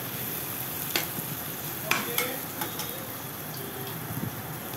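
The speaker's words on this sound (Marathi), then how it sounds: "रंग येईपर्यंत परतायचं आहे ते" Onion-garlic masala and red chili powder being sautéed in a pan for a dried bombil fish chutney, with a steady sizzle and occasional scrapes and clinks of a stirring spoon.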